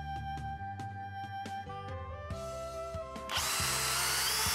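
A power drill fitted with a 7.5 mm bit pre-drills holes in fence posts during installation of a continuous vertical fence, starting and stopping in several short bursts before a long, loud run at the end.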